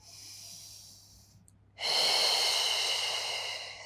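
Audible breathing during a pilates mobility workout: a soft drawn-in breath, then a long, loud, airy exhale close to the microphone.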